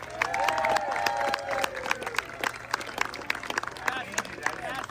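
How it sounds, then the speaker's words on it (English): An audience at a live chef event in Orange County claps and cheers in a dense patter of applause, with voices talking over the crowd. "Big round of applause for all of our chefs."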